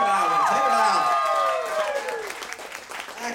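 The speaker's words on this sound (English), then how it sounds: "Give them a big round of applause" Audience applause for a singer aboard the Disney cruise ship Magic, a dense burst of clapping with some cheering that tapers off over a few seconds, with tonal voices or music sweeping over it at the start.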